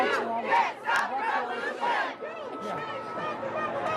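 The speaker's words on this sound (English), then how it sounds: "Okay, they're starting a new chant." A large protest crowd chants in unison outdoors, rhythmic shouted phrases repeating loudly with a few voices standing out near the front.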